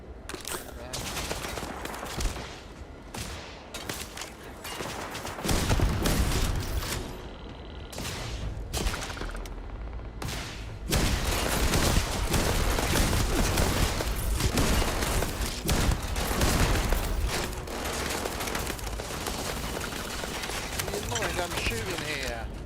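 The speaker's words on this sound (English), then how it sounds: "I'm shooting here." Rapid bursts of gunfire from a firefight in the space game Starfield, dense and continuous over game sounds, with talking mixed in throughout.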